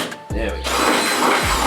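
A power drill spins up loudly with a whirring grind, briefly starts, then runs continuously at close range, drilling holes for car hood pins.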